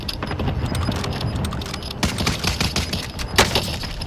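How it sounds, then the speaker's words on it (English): Rapid bursts of video game gunfire crackle continuously, dense and loud, with automatic fire blending into single shots in an online shooter match. "Receiving hostile fire."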